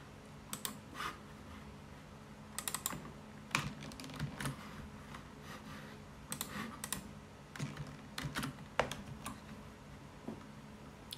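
Someone types on a computer keyboard to enter a login password, with quiet, close key clicks falling in short irregular clusters and small pauses between them.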